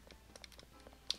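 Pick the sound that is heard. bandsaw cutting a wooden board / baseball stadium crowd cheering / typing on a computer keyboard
typing on a computer keyboard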